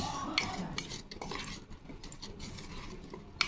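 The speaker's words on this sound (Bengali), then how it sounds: "লঙ্কা গুঁড়ো দেবো, দিয়ে এবার ভালো করে মেখে নেব।" A utensil mixes vegetables with gram flour, turmeric and chili powder in a pan. The scraping and clinking taps are fairly close, with sharp metallic clicks near the start and end.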